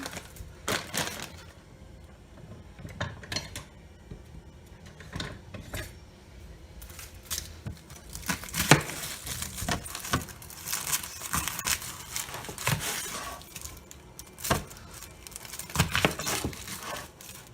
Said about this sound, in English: I need to cut onion